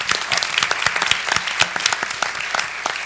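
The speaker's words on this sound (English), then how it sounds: "Yes, please give them a round of applause" An audience at a university forum applauds a group of Ed.D students, loud, close clapping with distinct individual claps popping out of the steady crowd applause.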